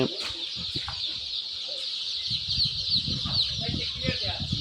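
Chickens and chicks at a wholesale poultry and duckling seller keep up a dense, constant high peeping and clucking, with someone talking over it for much of the time.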